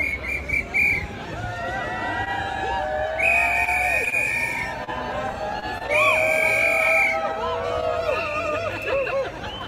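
Crowd at the COP26 climate summit, an outdoor gathering with steady loud babble, cheering and shouts, repeated sharp whistle blasts cutting through, and a voice calling out over the noise.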